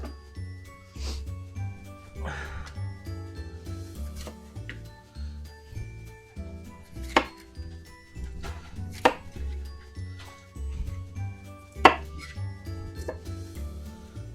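A knife chops bell peppers steadily on a cutting board, irregular thuds with a few sharper clicks, close by and without talk.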